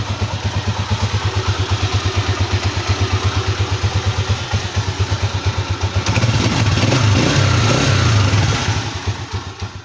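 A Pinoy Motoposh 155 motorcycle engine runs after a starter motor replacement, idling loud and close with a steady pulsing beat, then briefly revving higher before settling back down.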